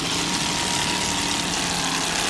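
A 30-foot Phantom offshore racing powerboat with one 650-horsepower engine and a Bravo drive, an unbroken roaring drone at a steady pitch, heard alone at a distance at the 1998 Drambuie Grand Prix.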